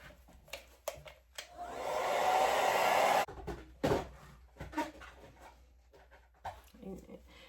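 A hair dryer blows with a steady whooshing roar for about two seconds, surrounded by a dog's panting and soft rustling.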